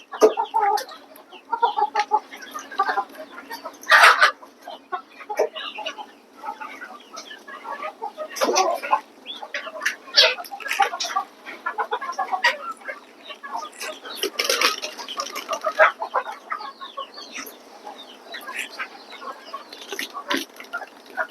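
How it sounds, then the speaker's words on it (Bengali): Free-range native chickens cluck and squabble while feeding on a farm, a busy overlapping chorus of clucks and squawks at moderate distance, with scattered louder calls. "দেশি মুরগির একটাই সমস্যা, এরা প্রচুর পরিমাণে ঝগড়া করে"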